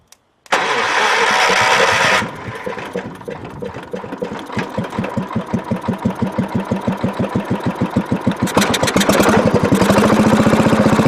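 1975 John Deere 300 lawn tractor engine cranks with a starter whine, then fires and settles into a loud, rapid, steady idle with a rhythmic chugging pulse, close by and alone without talk.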